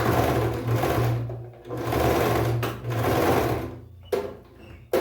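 A domestic sewing machine stitches knit fabric in three steady, humming runs with short pauses between them, ending with a couple of sharp mechanical clicks.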